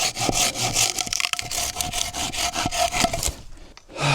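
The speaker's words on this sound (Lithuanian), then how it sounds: "Rastas storas, tai ne taip jau greit pjaunas, bet lengviau, daug lengviau pjaut" Hand saw cutting through a thick log outdoors in a forest, steady rasping back-and-forth strokes in a quick even rhythm, close and loud, with no talk.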